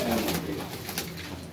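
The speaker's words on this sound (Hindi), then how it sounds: "ये माशाल्लाह ये कबूतर है ये नीलदुमी है" Neeldumi pigeons coo softly nearby in a short, low, murmuring burst, with no talking over them.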